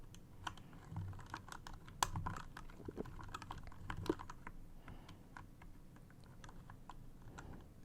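Soft, close typing on a computer keyboard as an ASMR trigger, a continuous quiet patter of irregular key taps with a few sharper clicks, no voice.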